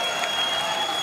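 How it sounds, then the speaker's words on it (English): Arena crowd at a Bellator MMA fight in Ontario cheering and applauding as the fighters are stood up, a dense, steady roar throughout. "there's the stand-up and the cheer on cue from the Ontario crowd"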